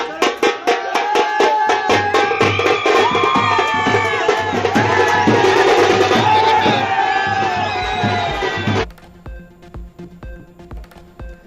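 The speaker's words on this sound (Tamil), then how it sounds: "கிரிக்கெட் ரசிகர்கள் பட்டாசு வெடித்தும் இனிப்புகளை வழங்கியும் மகிழ்ச்சியை வெளிப்படுத்தியும் ஆரவாரம்" Cricket fans celebrating India's win, a large crowd cheering, whooping and shouting continuously, with sharp rhythmic banging of firecrackers or drums throughout, fading to sparser bangs near the end.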